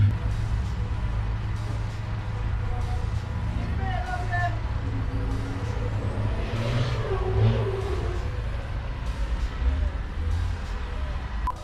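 Division 1 racing trucks launch at the start of a race at Thruxton, a dense rumbling roar of heavy engines revving and pulling away, with a commentator talking over it throughout.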